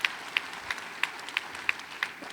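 An audience at a direct selling symposium in India claps in a steady, even rhythm, with sharp synchronized claps repeating about three times a second over a low crowd hum.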